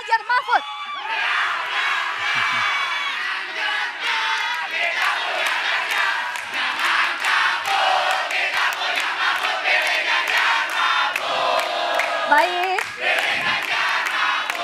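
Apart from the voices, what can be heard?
crowd of political supporters cheering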